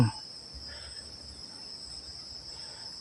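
Insects chirp steadily in a mixed farm garden, with a constant high, even trill against soft outdoor background noise. A brief knock sounds at the very start.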